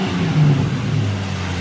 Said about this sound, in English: step outside, I'll rev it for you